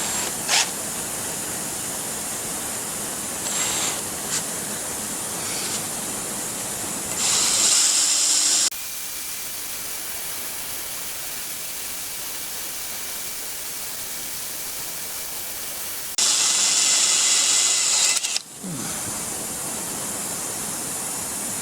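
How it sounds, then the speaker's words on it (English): A Harbor Freight drill bit cuts into a freeze-cracked cast iron 400 engine block for a tapered-pin crack repair, with two loud, sustained drilling bursts standing out over a constant hissing background. "I knew I was going to break that Harbor Freight drill bit"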